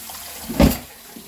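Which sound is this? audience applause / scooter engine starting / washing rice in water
washing rice in water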